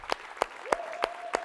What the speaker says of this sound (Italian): Volevo sentire il grande applauso per i miei ragazzi, i grandi musicisti della band